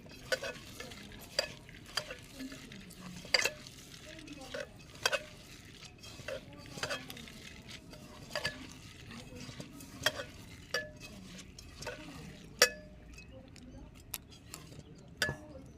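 Lentils are kneaded by hand with turmeric and salt, making soft, wet squelching and rhythmic pressing sounds with occasional light clicks, close and fairly quiet.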